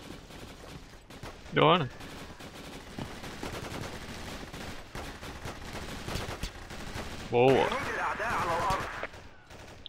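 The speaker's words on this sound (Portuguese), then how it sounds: "Muito chato esse minigun." Two loud bursts of rapid minigun fire ring out in Battlefield 2 over background game sounds, with a voice speaking briefly between them.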